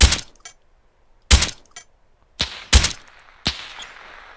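Rifle shots in Arma 3 ring out as loud, sharp cracks, about five spaced across a few seconds, each followed by a brief echoing tail and a quieter secondary report, with no talking.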